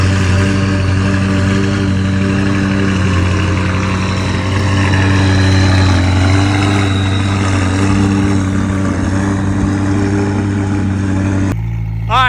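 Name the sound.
McLaren 570S engine starting and running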